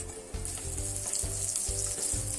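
Trout frying in a covered pan, a steady dense sizzle with a low rhythmic hum beneath it, continuous and close without talk.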